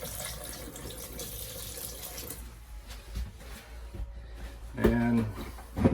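Compressed air forces water out of the shower line of a Coleman 17B camper, giving a continuous hissing, splashing spray up close, with a brief voice near the end.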